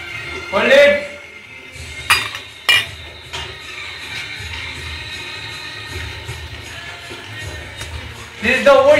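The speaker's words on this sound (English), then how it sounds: "Harry Potter washing dishes." Dishes, pots and cutlery clatter at a sink as dishes are washed, with several sharp clinks and knocks standing out over a steady background hiss and murmur.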